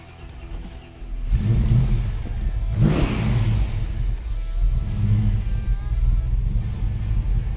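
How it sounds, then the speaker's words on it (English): Holden HT GTS Monaro street machine with a tough modified engine, idling with a deep lumpy rumble and then blipped hard into a sharp rev that falls back to a loud, close, throbbing idle. "Wow, that's one tough engine."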